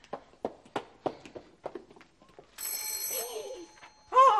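A telephone rings in an apartment, an old-style bell ring that starts after a series of scattered knocks and footstep-like thuds and keeps going, fairly faint, with no talking.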